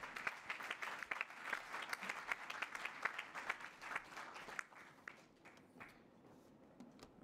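Steady applause from a crowd at the COP23 UN climate conference, dense clapping that gradually thins and fades toward the end.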